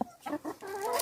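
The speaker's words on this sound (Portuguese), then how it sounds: "As galinhas já começam a ficar alvoroçadas, né, para botar." Hens on a small farm cluck in a quick run of short, close calls as they get restless before laying eggs in freshly strawed nests.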